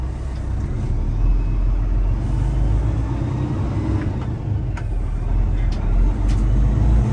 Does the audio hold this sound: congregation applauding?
no